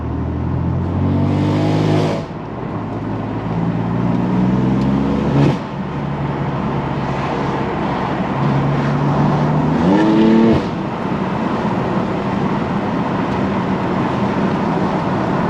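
A BMW M4 with traction control off accelerates hard on the street, engine revs climbing through several gear shifts with brief drops between them, loud and close from inside the cabin.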